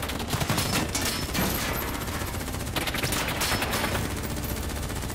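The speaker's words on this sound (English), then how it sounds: "Who's shooting?" Heavy, continuous gunfire in Call of Duty: Black Ops III crackles with dense overlapping automatic bursts and sharp individual shots, loud and relentless across the whole stretch.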